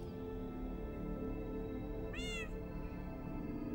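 A cat meows once in the video game Minecraft, a short rising-and-falling cry standing out over a steady background of game ambience, with no talking.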